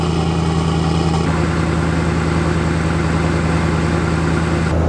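A camper van engine idles steadily after a cold start in below-freezing winter weather, a loud, constant low rumble with a slight shift in tone early on and no talking.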